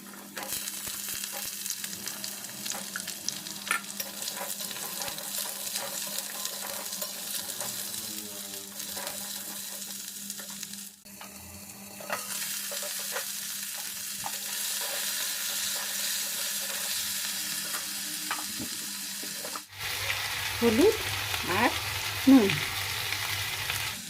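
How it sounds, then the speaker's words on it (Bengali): Potatoes fry in a spice tempering in a pan for a pumpkin-greens poppy seed dish: a continuous near sizzle with occasional stirring that shifts to a louder, busier crackle near the end. "ফোড়নটা ভাজা হয়ে গেল বেশ সুন্দর একটা গন্ধ বেরোচ্ছে এর মধ্যে আলুটা দিয়ে দিলাম"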